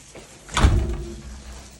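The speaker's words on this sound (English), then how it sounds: "I'll shut the door" A door shut in a geothermal greenhouse, a single muffled thud with a brief scraping swoosh, close and moderately loud against quiet room noise.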